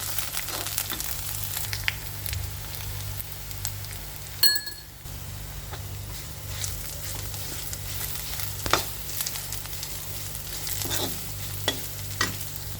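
Ivy gourd (tindora) fry with chili powder sizzling in a pan, a low steady fry hiss with scattered light scrapes and clinks of a spoon, one brief louder clatter partway through, no talking.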